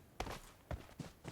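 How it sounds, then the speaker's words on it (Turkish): Faint footsteps in the battle royale game PUBG Mobile, four or so separate muffled thuds spaced irregularly across a quiet background. "Bir ayak sesi daha mı?"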